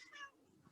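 A cat gives a single short, faint meow that rises and falls, followed by quiet room sound.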